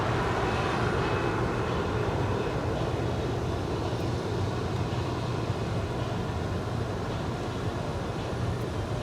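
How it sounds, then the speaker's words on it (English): A United Airlines Boeing 737-900ER on arrival from Hilo makes a constant, heavy engine rumble with strong low-end roar. It stays loud and close throughout with no gaps. "That is United Airlines Flight 1706, coming in from Hilo."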